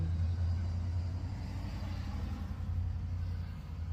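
A car passing on a residential street in Ontario, a steady low rumbling engine and tyre noise that holds throughout and eases slightly toward the end, with no one talking.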